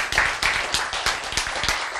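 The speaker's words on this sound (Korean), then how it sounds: "박수 해야 돼." A lecture audience gives a short burst of clapping: sharp, uneven individual claps close by, fairly loud, with no talk over them.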